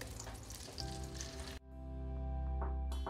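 Soy cubes frying in olive oil, a steady close sizzle and crackle that cuts off briefly midway and then resumes.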